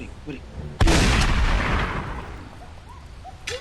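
A loud gunshot-like blast in a shooting video game, a single sharp burst followed by a decaying rumble, with a voice speaking faintly before and after it.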